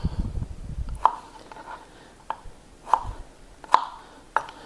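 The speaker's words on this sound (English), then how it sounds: "let me finish dicing up these strawberries" A knife dices strawberries on a cutting board, giving four or five sharp, separate chopping taps spaced about a second apart, close and fairly clear over a quiet room.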